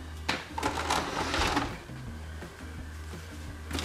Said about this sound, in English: I'm gonna run a baste stitch along the bottom, and then I'm gonna sew up this side seam.